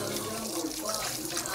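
Tap water running steadily into a sink while hands are washed, a close, continuous hissing splash over a short stretch.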